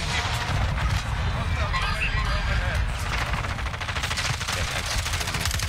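A shooter video game gives off dense, rapid bursts of gunfire, like a fusillade, loud and continuous throughout. Player voices seem to come through under the shots.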